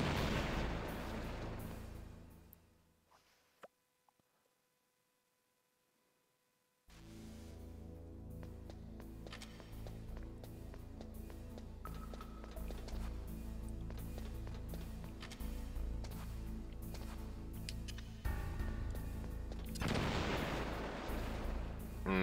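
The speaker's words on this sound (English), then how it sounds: "I hear clipping on that C4 place and explosion as well." A C4 charge detonates in Metal Gear Solid: after a brief silent gap the game sounds return with thumping booms, and a final heavy blast lands near the end.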